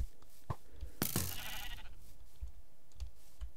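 A sheep bleats once in the Minecraft video game, a short wavering cry near the middle. Faint clicks, like mouse or keyboard taps, come before and after it.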